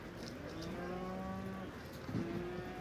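Cattle moo in a drawn-out, low, tonal call, then a second moo follows shortly after over steady outdoor background noise.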